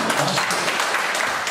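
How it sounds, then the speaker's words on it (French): Women at a model college gathering for a March 8 women's day celebration in Congo applaud steadily, dense continuous clapping filling the room with a faint voice underneath. "Vraiment, elle est applaudie."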